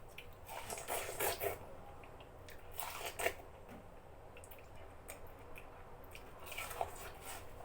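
Watermelon being bitten into and chewed up close, with wet crunches and squishy bursts in a few clustered bites, fairly quiet and with no talking.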